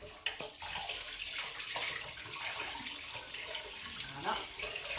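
Tap water runs steadily over sticky candied fruit in a kitchen, with a continuous close rush and splash and small shifts as the fruit is moved under the stream.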